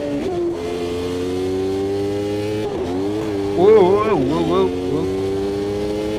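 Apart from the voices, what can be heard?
F1 race car engine and tyres, Automobilista 2 video game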